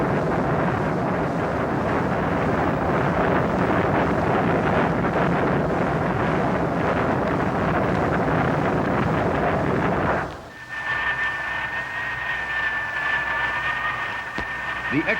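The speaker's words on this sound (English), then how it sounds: "This Curtiss-Wright rocket motor could move a modern battleship at high speed" A Curtiss-Wright rocket motor roars in a ground test as a loud, continuous rushing blast, which cuts off abruptly partway through and leaves a thinner mechanical hiss and whine behind.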